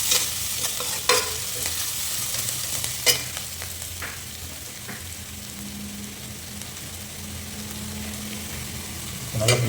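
Garlic and ginger fry in a pan for a potato masala, giving a steady close sizzle throughout. A few sharp scrapes of stirring come near the start, once around the middle, and again at the end.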